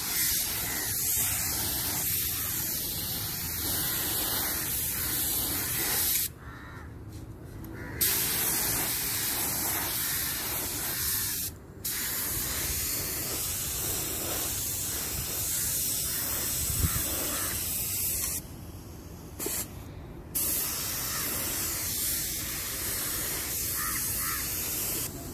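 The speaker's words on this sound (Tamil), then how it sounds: "ஸ்ப்ரே பண்ணிக்கிட்டு இருக்காங்க." A sprayer hisses steadily onto the middle ring of a thavil drum being made, in continuous bursts of spraying broken by a few short pauses, close and fairly loud with no talking.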